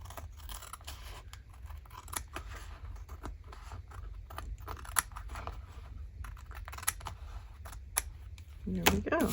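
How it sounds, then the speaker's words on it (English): Scissors snip through paper for a craft envelope: a quiet series of sharp, crisp cuts and small rustles close up, irregularly spaced. "I'm going to cut this off here"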